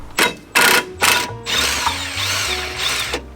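A ratchet wrench clicks in short bursts as two 14mm bolts on a rusty rear caliper bracket are undone, followed by sustained whirring and ratcheting, loud and close.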